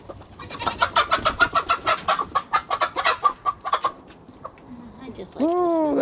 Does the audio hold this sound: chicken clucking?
yes